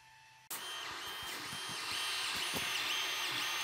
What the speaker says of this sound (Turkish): yazıcımız faaliyete geçti